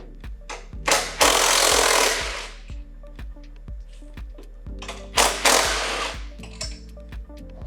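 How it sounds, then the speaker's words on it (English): A 12mm socket driver loosens the seat bolts on an SG250 motorcycle in two loud, broadband bursts of about a second each, separated by a pause, with steady tonal music playing underneath. "We're going to use a 12mm socket to do that."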